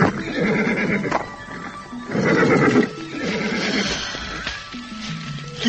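A horse neighs repeatedly in loud, drawn-out whinnies at close range while resting to graze at a roadside stop, with some hoof clatter beneath and no talk.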